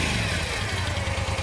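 A Moto Guzzi Nevada 750 air-cooled two-cylinder motorcycle engine runs close and loud, a throbbing, pulsing beat that lifts slightly as the throttle opens in a short burst.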